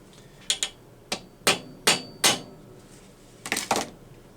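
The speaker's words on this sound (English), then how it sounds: "I'm going to see if I can be smart and get all 3 rivets in, and then we'll peen them over" Hammer peening three rivets on a Husqvarna chainsaw guide bar in a repair shop, sharp metallic taps arriving singly and in quick pairs, close and moderately loud, with no talking.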